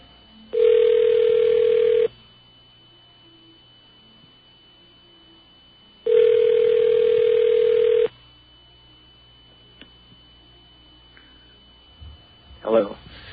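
A telephone line rings twice during a call, each long steady ring about a second and a half and spaced several seconds apart, loud and clear before a faint click.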